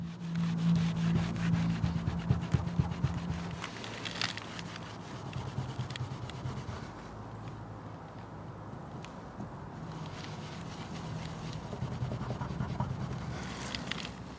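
A car detailing product is rubbed into a surface by hand, giving a soft, steady, close scrubbing and rubbing sound with quiet scraping strokes and no talking.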